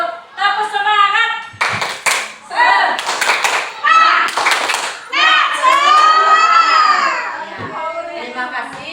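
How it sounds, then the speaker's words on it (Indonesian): A group performs the rhythmic tepuk semangat clap, bursts of sharp unison clapping alternating with chanted or sung vocal phrases, loud and close. "kita tepuk semangat dulu. Tepuk semangat."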